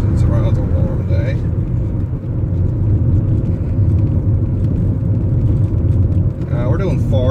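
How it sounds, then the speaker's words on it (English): A BMW E39 electric conversion with a Prius inverter cruising in third gear, a loud steady road rumble and drivetrain hum from inside the cabin with someone talking over it. "We're now driving in third."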